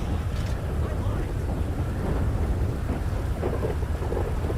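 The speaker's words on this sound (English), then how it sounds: "Is this thunder really loud for you guys?" Loud, continuous low rumble of video game thunder in GTA 5 with rain-like hiss, sustained at a heavy level the whole way through.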